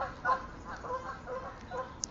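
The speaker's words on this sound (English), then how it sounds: "Canadian geese, so not as bad" Canada geese honk outdoors in a few short, nasal calls spaced across the moment, moderately close and fairly faint, with no talking.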